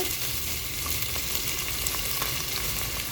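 Chopped vegetables for upma sizzle and fry steadily in a hot pan, a close, continuous crackle with faint stirring.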